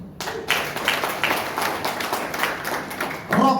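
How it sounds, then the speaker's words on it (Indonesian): A church congregation at Sunday worship bursts into scattered clapping, a moderate patter of many hands with a louder swell near the end, mixed with faint voices. "Yang paham tepuk tangan itu"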